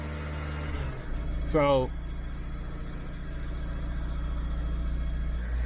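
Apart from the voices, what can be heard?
2012 Dodge Avenger engine held at 2,000 RPM in limp mode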